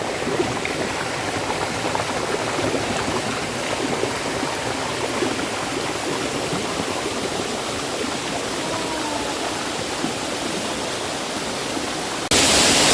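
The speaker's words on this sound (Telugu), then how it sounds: "సో ఈ కటికే వాటర్ ఫాల్స్ అయితే చాలా చాలా బాగుంటుంది ఫ్రెండ్స్" Katike waterfalls near Araku roar with a broad, constant rush of falling water, loud and unbroken for the whole stretch, with no voices heard.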